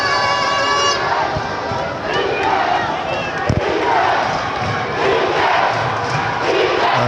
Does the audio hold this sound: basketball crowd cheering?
yes